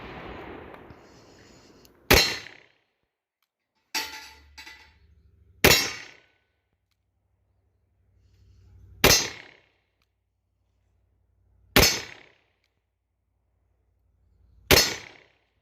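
Six sharp, loud revolver shots from a Taurus Judge Public Defender Polymer fired at targets outdoors, each a single crack with a short decaying tail, spaced a few seconds apart.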